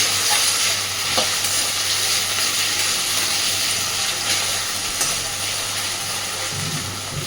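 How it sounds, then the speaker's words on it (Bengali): Potato pieces fry in a pan for a Bengali water spinach dish, with a continuous close sizzle and occasional stirring scrapes throughout. "তো আলুগুলোকে আগে একটু ভেজে নেব।"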